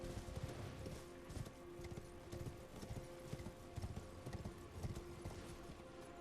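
A horse galloping in Elden Ring Shadow of the Erdtree, with steady rhythmic hoofbeats that are close and continuous over a low ambient game backdrop, plus a faint neigh.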